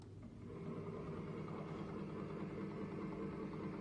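A CSM tribometer runs a friction measurement, its motor giving a steady, faint mechanical hum and whir with a quieter start before the level settles.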